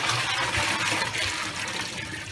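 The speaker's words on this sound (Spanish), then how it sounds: "Escurrimos un poco para utilizar nuevamente el agua" Water runs and splashes steadily as a soaked tarp of oyster mushroom substrate is lifted and left to drain, a close, continuous gushing wash with no talk.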